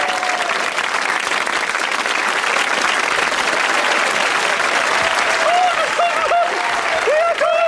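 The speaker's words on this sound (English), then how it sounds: "a big round of applause for Donald and Davy Stott" Studio audience applause for Donald and Davy Stott on a comedy variety show, loud sustained clapping with cheers mixed in, a voice calling out over it near the end.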